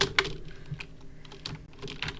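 Computer keyboard keys clatter in quick, irregular bursts of close, crisp clicks, heard alone during a Block Dash game session.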